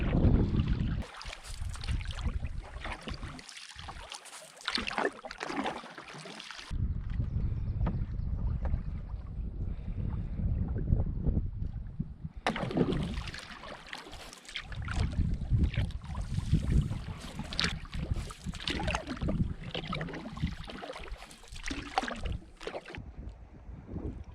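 Paddle strokes pull a canoe through a quiet boreal lake bay in Wabakimi, rhythmic splashes and water swirls close by, with intermittent wind buffeting the microphone and a brief quieter stretch midway.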